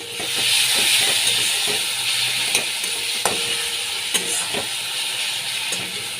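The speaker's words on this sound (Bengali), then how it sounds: "ভালো করে আমি কষিয়ে নিচ্ছি আমি এক চামচ জিরে গুঁড়ো দিয়ে দিচ্ছি" A spoonful of cumin powder sautéed with chopped onion in a pan: continuous loud sizzling and hissing, with sharp spatula clicks and scrapes against the pan.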